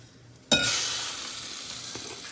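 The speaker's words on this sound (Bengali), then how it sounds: "তো বন্ধুরা এখন আমি এই যে তেলের পিঠে করে নিচ্ছি।" Rice-flour pitha drops into hot oil with a sudden loud sizzle that settles into a steady, bright frying hiss, heard up close in a home kitchen at Poush Sankranti.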